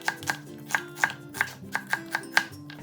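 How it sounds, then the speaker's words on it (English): A knife chops through half an onion on a cutting board, about ten crisp, evenly spaced strikes in steady rhythm, close and clear with no talking. "cut half an onion into appropriate sizes"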